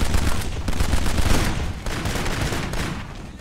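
Sustained heavy gunfire in Kane and Lynch: Dead Men, a dense, loud rattle of rapid shots and echoing blasts filling the whole stretch, close and unbroken, with no voices over it.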